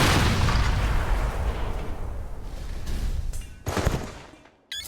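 A rigged food explosion in a Sniper Elite game goes off as a loud, dense blast with crackling debris that fades over a few seconds. A second sharp burst and a final hit follow.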